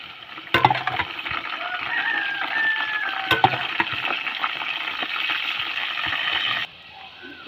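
Jackfruit chips frying in hot oil give a steady, close, hissing sizzle for several seconds that cuts off abruptly, with a faint rooster crowing in the background.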